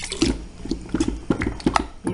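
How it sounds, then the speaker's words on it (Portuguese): Room-temperature water poured slowly into thickening liquid soap base while it is stirred, giving a steady run of small splashes, scrapes and gloopy knocks, close and moderately loud. "Você coloca um pouquinho de água e mexe, ele já vai engrossando."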